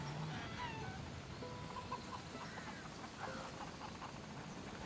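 Faint clucking of chickens in the Ghost Recon Wildlands game world, scattered short calls over a quiet outdoor ambience with little else going on.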